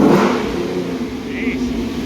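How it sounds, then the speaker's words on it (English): A Ford Mustang V6 engine revs with a low, rising growl from the intake, close by, with faint voices mixed in. "you can actually hear the intake a little bit"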